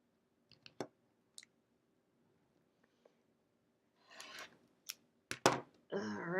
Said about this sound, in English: So I'm just going to trim this edge.